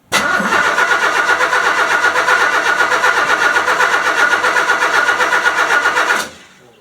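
A 1976 Chevy C10 Custom Deluxe engine cranks briefly and then catches, running with a loud, close, steady mechanical rumble for about six seconds before cutting off abruptly.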